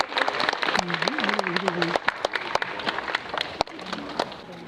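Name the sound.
audience applause welcoming guests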